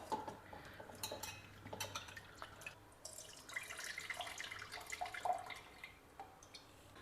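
Tamarind being squeezed and worked by hand in a bowl of water for its juice, giving soft irregular splashing, dripping and squelching with light clinks of a vessel, close and moderately quiet, no talking.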